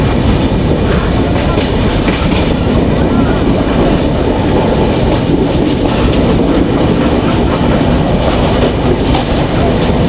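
Inside the Benapole Express as it passes through Talma railway station: a constant loud roar of wheels and rattling carriage, dense and unbroken, with light clicks of rail joints and no speech.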